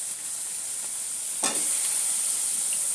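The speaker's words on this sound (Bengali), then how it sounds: "তো আলুটা এখন দিয়ে দেবো আমি তরকারিতে" Potatoes going into a shrimp curry's frying masala, with a constant bright sizzle and a brief scrape of stirring midway.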